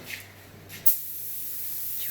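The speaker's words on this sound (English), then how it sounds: "So I'll spray the backside first." Technicians Choice Tec580 ceramic coating sprayed onto the backside of a wheel, a short puff followed by a sustained steady hiss of the spray, close and fairly loud.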